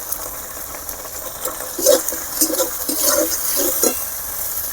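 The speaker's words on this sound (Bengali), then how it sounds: "ভালো করে ভেজে নিতে হবে।" Spices and ginger paste fry in a pan, giving a steady soft sizzle with brief stirring scrapes and rattles near the middle.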